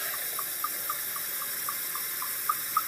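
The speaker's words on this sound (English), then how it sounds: "place the water in the cup" Water poured steadily into a clear glass cup, making a continuous hiss with faint regular plinks and no talking.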